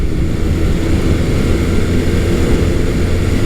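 A Honda CB400 T Hawk twin-cylinder motorcycle engine drones steadily while riding, a loud, even, low rumble mixed with heavy wind rush that holds constant throughout, with no voices.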